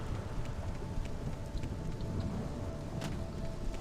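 Steady rain falls in the Morrowind Tamriel Rebuilt video game. It makes a continuous, even hiss of drops with a low rumbling bed, close and fairly loud, and no one speaks.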